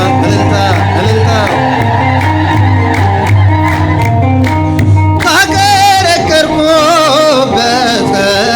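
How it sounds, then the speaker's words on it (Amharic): Celebratory ululation from a crowd at an Ethiopian Orthodox Tewahedo hymn performance, with loud, wavering high trills that burst in halfway through and sit over steady singing and instruments. "እልልታ እልልታ እልልታ"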